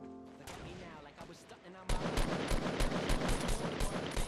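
Rapid bursts of SCAR assault rifle fire in Fortnite: Battle Royale, loud and close, starting about midway after a stretch of softer game noise and continuing as a fast, steady volley to the end.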